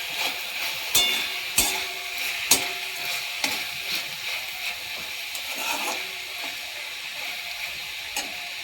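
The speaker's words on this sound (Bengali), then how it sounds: "নেড়ে দেব।" Bathua greens fried in a pan with sugar added, stirred with a utensil: a steady sizzle runs throughout while sharp scraping clacks land against the pan early on, then turn softer and sparser. Close by, with no talking.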